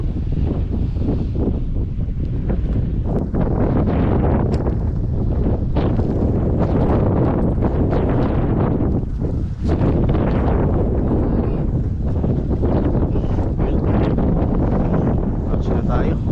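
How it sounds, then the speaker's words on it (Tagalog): Strong wind roars over the microphone at sea aboard a fishing boat, a steady loud buffeting rush that masks everything else for the whole stretch. "Lakas na yung hangin mga master."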